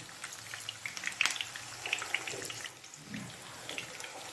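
Koftas fry in hot oil in a pan, a soft continuous sizzle with light crackling pops scattered throughout, fairly faint and steady with no voices.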